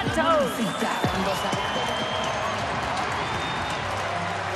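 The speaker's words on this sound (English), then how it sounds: "Nice round of applause." A baseball stadium crowd at a Padres versus Giants game applauds and cheers the center fielder as he comes to bat, a steady wash of clapping and crowd noise under a broadcaster's voice.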